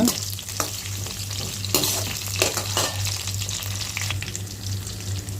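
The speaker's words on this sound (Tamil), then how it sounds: "பூண்டு சேர்த்த உடனே அது கூடவே பச்சை மிளகாய் வந்து ஒரு 4 அதையும் சேர்த்துக்கோங்க. இதை வந்து ஒரு 2 நிமிஷத்துக்கு நல்லா வதக்கிக்கோங்க" Garlic and four green chillies sautéing in a hot pan, a continuous close sizzle with intermittent scraping stirs and a steady low hum underneath.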